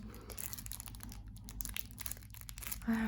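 Plastic film wrapping on a parcel of diamond painting kits being partly peeled open, with close, soft crinkling and crumpling that runs throughout in irregular bursts.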